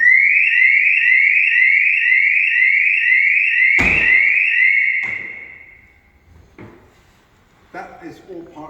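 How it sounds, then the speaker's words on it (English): A security alarm on a Pegasus hardtop canopy sounds as a loud, close, fast-pulsing electronic beep, then stops abruptly after a clunk of the door, followed by a few quieter knocks and a voice speaking. "if I now unlock this door manually and open the door, I believe this alarm is going to go off"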